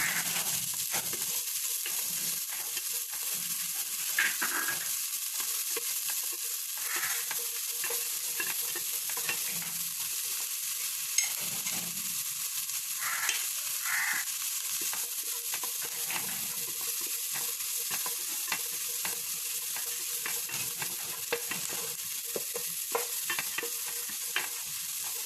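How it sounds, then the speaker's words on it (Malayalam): Green beans being stir-fried for chicken egg fried rice, with steady sizzling in the pan broken by repeated scraping and clinking of a spatula stirring throughout, no voices. "ബീൻസ് ഒന്ന് വഴന്ന് വരുന്നവരെ ഇതിനെ ഇളക്കി കൊടുക്കാം."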